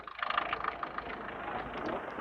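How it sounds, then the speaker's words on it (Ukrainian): A 2012 crossover's 1.6 diesel engine with a manual gearbox idles at a used-car market with the bonnet open, a faint, even, steady hum with a slight rhythmic clatter early on. "Мотор чую рівно працює."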